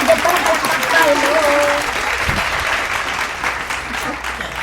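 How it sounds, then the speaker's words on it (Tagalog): A few people clap during a casual home meal of Bisaya food, scattered close claps under ongoing conversational talk, with a thump partway through. "palakpakan natin"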